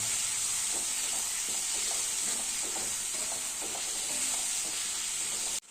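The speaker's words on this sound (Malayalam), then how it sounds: "ഇത് നല്ലോണം ഒന്ന് ഇളക്കി കൊടുക്കണം" Thinly sliced tomatoes fry in a pan for a Kerala-style chicken roast, giving a steady loud sizzle with soft scraping and stirring sounds throughout. No one speaks.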